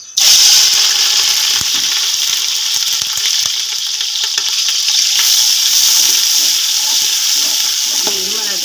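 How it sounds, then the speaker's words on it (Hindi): Two large onions fry in hot ghee in a degi pot for chicken biryani over a high flame, giving a loud, steady close sizzle with occasional stirring clicks and scrapes throughout. "देखो प्याज जल्दी से हमारी फ्राई होने शुरू हो गई"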